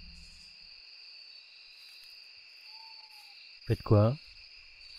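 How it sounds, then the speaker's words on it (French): An owl hoots softly in a nighttime ambience track behind a tabletop role-playing game session, over a steady high insect drone, followed by a brief loud spoken question. "C'est pas pour dire, mais là ça ressemble plus à des chouettes."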